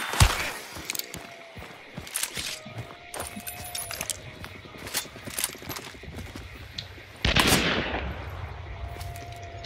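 Sniper rifle gunfire in an online shooter, with a Centennial and a Springfield heard as sharp, separate cracks spread across the scene, one louder burst near the end, over faint background game noise.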